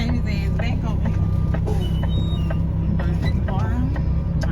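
A semi truck's diesel engine idles and rumbles steadily close by while backing up, with air-brake hisses and brief mechanical clicks over the drone, and a voice talking over it throughout.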